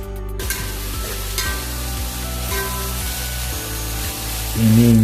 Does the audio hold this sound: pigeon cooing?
no